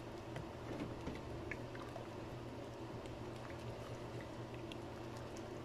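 Water boiling in a pot of chicken for red chicken kabsa, a quiet, continuous low bubbling and simmering hiss with a few faint pops, heard alone.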